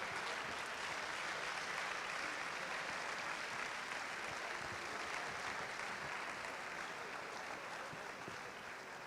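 Steady, dense applause from an audience at a basketball federation's opening night, as regional officials and staff gather on stage; the clapping stays loud and even throughout with no pause.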